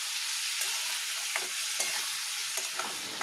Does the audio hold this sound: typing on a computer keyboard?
no